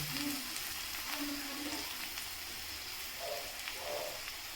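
Onion and garlic frying in a pan, a soft steady sizzle with faint crackles and a few light scrapes of stirring, close and fairly quiet.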